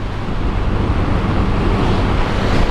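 Indian Ocean surf at a beach in Mukomuko, Bengkulu, a steady broadband wash of breaking waves with wind rumble, continuous and fairly loud throughout.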